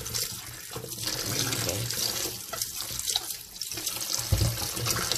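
Tap water runs steadily into a sink while zucchini is washed, a close, continuous hissing splash with small shifts in flow and a brief thump near the end, no talk.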